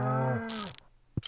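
A single cow in the Stardew Valley farming game lets out a drawn-out moo that sags in pitch and fades, followed by a brief rustle and a soft low thump, with no talking.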